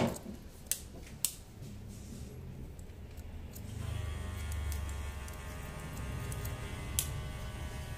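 Barber's scissors snip hair during a standard men's haircut, a few sharp close clicks early on over a steady low hum, with quiet room background and no talk.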